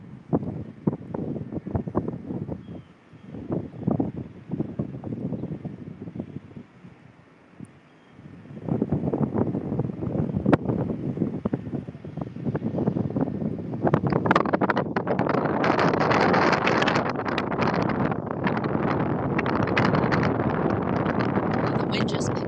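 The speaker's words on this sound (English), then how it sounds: "The wind just picked up big time." Strong wind buffets a microphone on a New York City rooftop, gusty roaring bursts at first, then a sustained heavy rush that grows louder and stays constant, with a person talking over parts of it.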